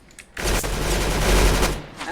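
Springfield rifle gunfire in a video game, a loud sustained burst of booming shots close by that cuts in abruptly and fades after about a second and a half.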